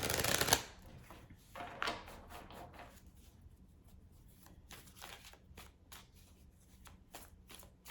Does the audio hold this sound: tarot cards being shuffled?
yes